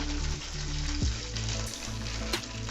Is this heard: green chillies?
yes